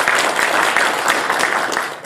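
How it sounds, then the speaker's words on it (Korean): Audience applause at a Korea-China strategy conference session, a dense burst of many hands clapping steadily at close range, fading slightly at the end. "박수 부탁드리겠습니다"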